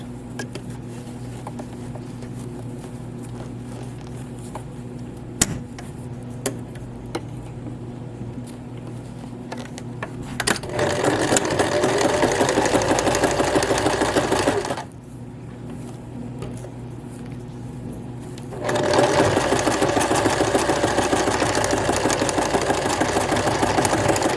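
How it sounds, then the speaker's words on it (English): A sewing machine stitches down elastic in a skirt waistband, running in two sustained, steady bursts of whirring and needle chatter, separated by a pause and preceded by quieter handling and a faint background hum. "we'll stitch that down just like we did the whole waistband"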